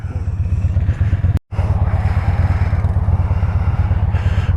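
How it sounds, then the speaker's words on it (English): A child's small mini bike engine runs steadily as it rides up a driveway, a loud close buzzing putter with rapid regular firing pulses and a brief cut-out partway through. "Invested in my kids' little mini bike."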